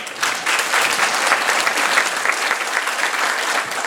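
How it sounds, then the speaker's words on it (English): An audience applauds a choir at a talk on countering religious extremism, with loud, dense clapping that holds steady for about four seconds and no voice over it. "Round of applause to the choir."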